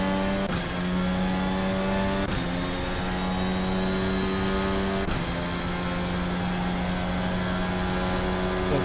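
A Formula Alpha open-wheel race car engine drones at high revs in a VRC sim racing game, loud and sustained, with brief dips at gear shifts.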